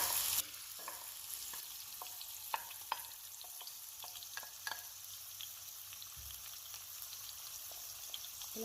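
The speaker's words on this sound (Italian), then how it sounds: "Metto in padella un bel giro di olio e lo lascio scaldare." Onion frying in hot oil in a pan for a veal stew, a steady close sizzle with scattered crackles and pops, no voices.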